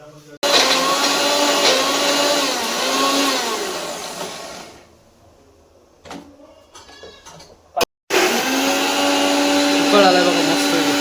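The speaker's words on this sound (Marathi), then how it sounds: "मिक्सर लावूया" An electric kitchen mixer grinder whirs loudly while grinding dry masala for chicken curry, a strong steady motor whine for about four seconds, then stops, followed by brief clunks and a second long running burst.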